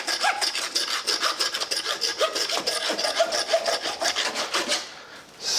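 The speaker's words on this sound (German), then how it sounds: "Den werde ich jetzt erstmal absägen." A hand saw rasps through the rib cage of a veal forequarter in a butcher's workshop, with steady back-and-forth strokes that carry on without a break and stop near the end.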